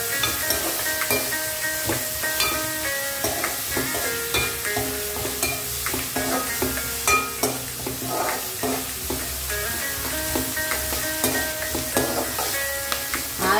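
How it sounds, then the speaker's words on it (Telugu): Curry leaves frying in oil for a Vetapalam-style egg tomato curry, stirred with a spoon that scrapes and taps the pan in an uneven rhythm over a steady close sizzle, with no talking. "ఒకసారి తిప్పుకుందాము."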